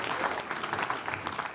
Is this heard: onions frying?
no